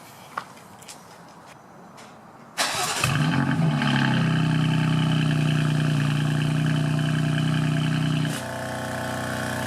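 A 2019 BMW M4 Competition with secondary cat delete and its exhaust valves open fires up with a sharp, loud bark, then holds a deep, steady idle close by. The idle drops slightly in volume near the end.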